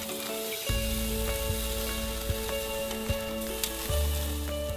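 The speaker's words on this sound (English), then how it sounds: "So now it's time to cook the tuna. So I've got the grill bars really hot" Portuguese-style fresh tuna steaks searing on very hot Napoleon BBQ grill bars, a loud continuous close sizzle with occasional sharp clicks and a low rumbling flame underneath, no voices.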